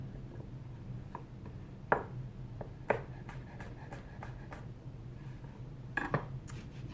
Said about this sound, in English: So I'm going to go ahead and get our cucumbers diced up.